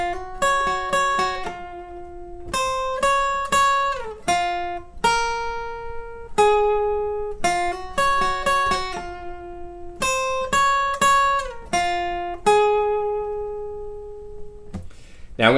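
Acoustic guitar riff, played as a repeating pattern of crisp plucked notes and short ringing phrases over about fifteen seconds, close and unaccompanied.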